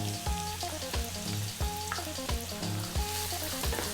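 Onion, carrots and green beans sizzle and fry in a hot pan over above-medium heat for veggie fried rice, with steady crackling close up and rhythmic stirring knocks throughout, and no voices.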